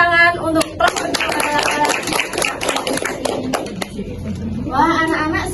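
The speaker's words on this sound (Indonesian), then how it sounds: "Tepuk tangan untuk kelompok 2" Children clap together in an Indonesian classroom for a group that answered well, a lively burst of many small hands with a teacher's voice heard over it at the start and end.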